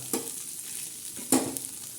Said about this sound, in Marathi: तर खमंग असा चांगला तळलेला आहे